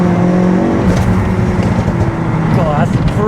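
A 530bhp four-wheel-drive Ford Focus RS accelerates hard from inside the cabin, its engine droning loudly and then rising through a revving surge while someone talks over it.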